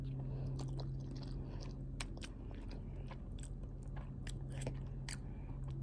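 Someone eating spicy beef noodles, with close, wet chewing and small crunchy bites under a steady low background hum, no talking.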